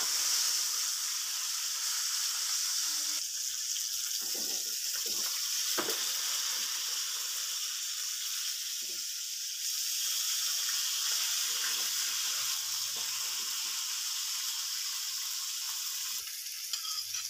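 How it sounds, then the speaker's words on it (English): A côte de boeuf fries in a pan while its fat is basted over the meat. It gives a steady, close sizzle that runs the whole time, with faint scrapes and clinks from the pan mixed in. "I'm going to flip the meat on the other side."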